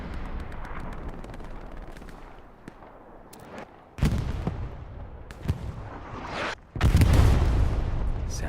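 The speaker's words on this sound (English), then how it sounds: "Satchel goes off." A satchel charge detonates in the Hell Let Loose battle on Smolensk: one loud, deep blast bursts out late amid a steady bed of distant gunfire and booms, then rumbles on.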